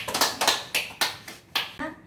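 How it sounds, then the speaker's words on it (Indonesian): Hands clapping in a classroom, a short burst of about eight sharp claps in an uneven rhythm, fairly close and moderately loud, ending quickly. "Oh iya, bagus, tepuk tangan."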